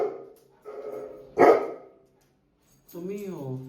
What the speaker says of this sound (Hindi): काहे भौंक रहे हो भाई?